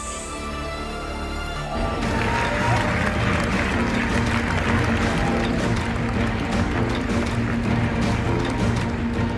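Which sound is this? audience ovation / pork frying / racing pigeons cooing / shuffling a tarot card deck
audience ovation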